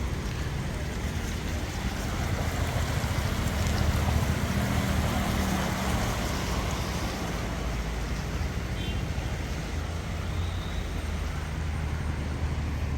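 The Pamba river flows calmly beneath Kallissery bridge, heard from the bridge as a steady, broad rush of water mixed with wind buffeting, continuous and unchanging with no talk.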